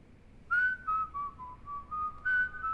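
Someone whistles a short, wavering melody of sustained notes, clear and close against a quiet background.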